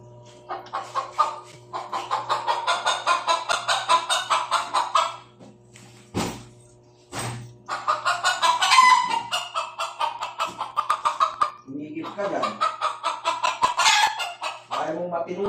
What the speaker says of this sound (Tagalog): Wala pang pangalan yung alaga ng manok namin.